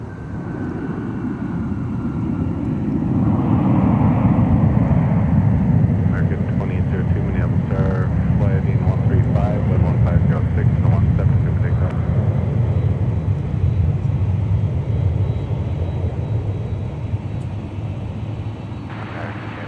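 A jet airliner departs Minneapolis–Saint Paul airport, its engine roar swelling and holding steady before slowly fading, with air traffic radio chatter heard under the noise.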